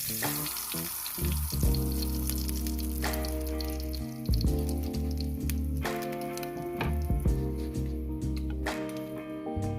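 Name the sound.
burger patties frying in grease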